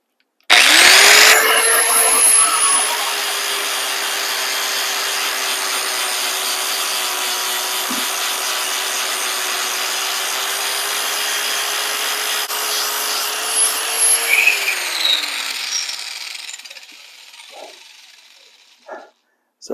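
An axe head is sanded free of rust with 80 grit on a power tool, giving a loud, steady abrasive whir that spins up, holds for about fifteen seconds, then winds down to quiet.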